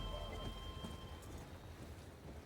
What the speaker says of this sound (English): Is it raining here?